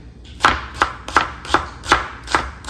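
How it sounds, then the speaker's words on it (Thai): A knife slices shallots on a cutting board for a Thai spicy salad, giving seven crisp, evenly spaced chops close up, with no talking. "หั่นหอมซอยนะคะ"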